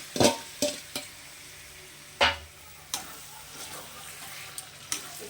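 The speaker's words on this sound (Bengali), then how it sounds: "এখন আমি এর মধ্যে দিয়ে দিচ্ছি যে চিকেনটা আমি ম্যারিনেট করে রেখেছিলাম সেই চিকেনটাকে।" Marinated chicken pieces dropped into a pan of sautéed spice paste, with a few sharp scraping clatters of stirring over a soft, low sizzle and no one talking.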